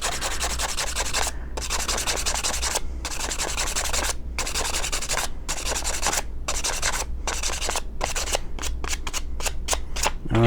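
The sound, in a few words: sanding an arrow with 220-grit sandpaper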